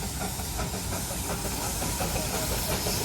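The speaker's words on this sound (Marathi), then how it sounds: "समोरून ट्रेन येते बघा." Continuous loud steam hiss from the two-coach Darjeeling toy train approaching, a broad rushing wash with faint mechanical chuffing underneath and no clear speech.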